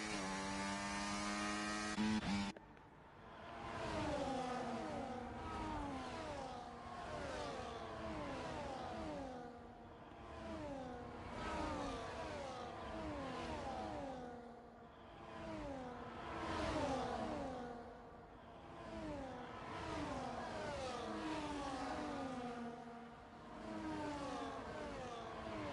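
Race cars on the Jeddah circuit in a racing video game scream past one after another, with high engines rising and falling in pitch through repeated upshifts, steady and moderately loud, no talk.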